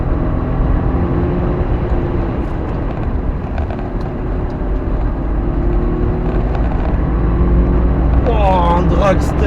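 A BMW F10 550i with a twin-turbo V8 accelerates at full throttle, its loud, continuous engine roar filling the cabin, with a voice briefly audible near the end.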